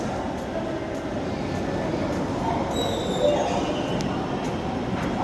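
Metro train at Mirpur 10 station in Dhaka, a steady rumble of rolling cars with faint high wheel squeal, heard from the platform over station hubbub.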